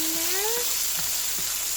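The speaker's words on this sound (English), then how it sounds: "One heck of a sizzle." Minced garlic sizzles steadily in a hot pan, a dense, even crackle heard up close, with a few faint taps and a brief tonal squeal early on.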